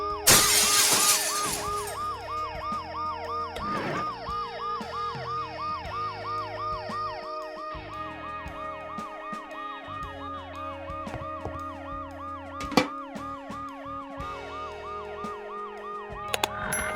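In a video game, a wailing ambulance siren cycles steadily up and down for the whole stretch, with a burst of shattering glass at the start and a sharp knock later.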